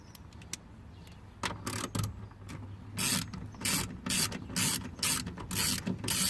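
Ratcheting wrench with a 5.5 millimeter socket backs out the screws of a Ford F150 front door speaker, giving close, loud bursts of rapid clicking in irregular spurts.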